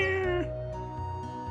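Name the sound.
cat meowing in the video game Chrono Cross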